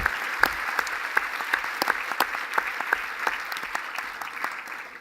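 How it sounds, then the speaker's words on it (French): Audience applause for the technicians at the closing speech of a CNAEMO conference in Biarritz, a steady spread of individual claps from a modest crowd, fairly close and heard alone. "Donc on peut les applaudir"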